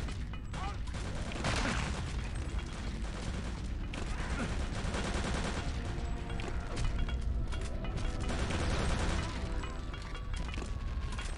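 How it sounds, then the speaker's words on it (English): Gunfire and explosive blasts from the video game Return to Castle Wolfenstein as a grenade is thrown at soldiers fighting monsters, a dense, continuous loud battle din with clattering mechanical sounds throughout. "I'm just gonna grenade them"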